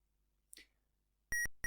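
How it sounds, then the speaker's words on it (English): Beeps from the ZX Spectrum game Magic Treasure Adventure, two short sharp electronic tones in quick succession following a brief soft click, heard alone with no talk. "So is the beeping getting on your nerves yet?"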